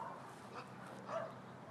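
A lively dog near a fence makes a few short, excited barking and whimpering sounds close by, with a louder burst toward the end over steady background noise.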